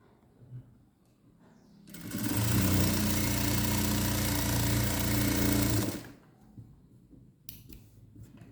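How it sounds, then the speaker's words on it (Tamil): A sewing machine runs one continuous stitch for about four seconds, a loud, close, rapid mechanical buzz that starts and stops abruptly, with quieter handling noise before and after. "ஒரு கால் இன்ச்சில் ஒரு தையல் ஓட்டுறோம்"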